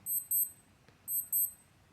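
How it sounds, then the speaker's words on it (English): A Casio G-Shock GW-M5610BC digital watch alarm beeps in two quick bursts of rapid high chirps separated by a short pause, thin and clear in a quiet room. "I'm just going to show you the alarm sound."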